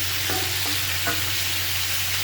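Bottle gourd and spices stirred in a hot pan, a steady close sizzle with faint scraping strokes of the spoon and no voices.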